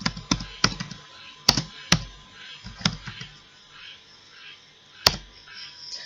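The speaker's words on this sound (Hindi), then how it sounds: "And type the following command." Fingers type a command on a computer keyboard, giving a handful of crisp, isolated keystrokes at irregular intervals, close and clear with quiet gaps between.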